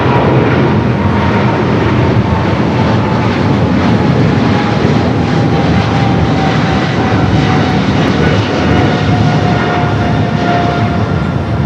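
An airplane at LAX gives a loud, steady engine roar that holds without pause for about twelve seconds, with no talking over it.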